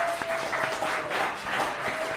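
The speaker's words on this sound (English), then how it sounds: "But everyone here, give yourselves a big round of applause" A restaurant crowd at Aviva claps together in a dense, steady burst of applause that fills the short moment, with no talk over it.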